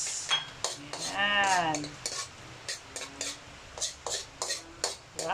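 Onion going into a pot of simmering chicken tinola and being stirred, with repeated close metal scrapes and clinks of a utensil against the pot, a brief squeaky tonal sweep early on, and a short spoken word.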